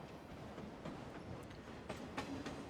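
A video game train sound effect: a train rumbling past with rhythmic clicking of wheels on track and occasional sharp metallic ticks, moderately loud and steady.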